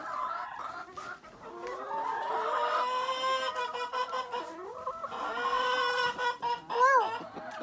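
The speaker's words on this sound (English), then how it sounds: "come look at this other chicken" A chicken clucks close by in a run of varied, throaty clucks and squawks, with a louder rising call near the end and no talk.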